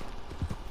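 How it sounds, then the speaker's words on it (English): Horse hooves in the video game Red Dead Redemption, a few soft clip-clop steps under a steady low background. "Bro, my horse, I feel bad for my horse."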